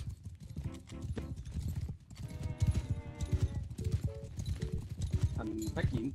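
Horses clip-clop at a stable in the Mount & Blade II video game, with steady hoof beats under continuous talk and game sounds throughout.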